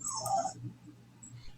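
A dog lets out a brief high whimper at close range, a thin whining cry followed by quiet room noise, with no speech.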